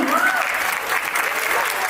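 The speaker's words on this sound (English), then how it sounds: "Let's have a huge round of applause for the Gungru Kathak Academy." An audience applauds the Gungru Kathak Academy at a Republic Day event in a Surrey banquet hall, the clapping loud and close, with voices and a brief whoop mixed into the applause.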